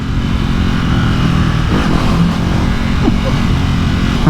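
A 2020 Ducati Hypermotard 950 SP revs hard on the road, a loud, continuous close-up engine roar with rising pitch sweeps over constant wind rush.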